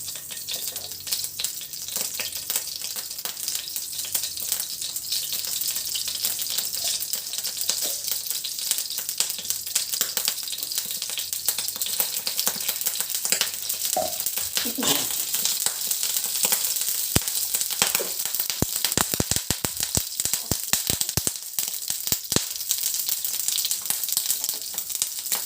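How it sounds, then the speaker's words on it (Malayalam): Onion, green chilli, crushed garlic, ginger and salt sautéing in hot oil, a steady bright crackling sizzle throughout, with sharp clicks and taps of a spoon against the pan growing busier toward the end. "നമ്മുടെ സവാള, പച്ചമുളക്, പിന്നെ ചതച്ച വെളുത്തുള്ളിയും ഇഞ്ചിയും ആവശ്യത്തിന് ഉപ്പും ഇതെല്ലാം കൂടി നമ്മൾ മൂപ്പിക്കണം"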